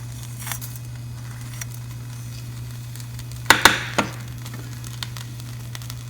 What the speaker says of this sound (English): I'm going to add lentils, mustards and cumin seeds, and I'm going to wait till they pop up.